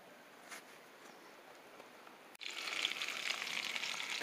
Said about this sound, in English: So our fish are frying.